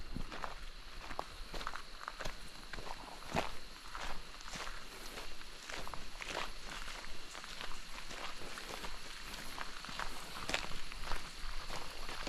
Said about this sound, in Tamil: நான் நடந்து போகிறேன்.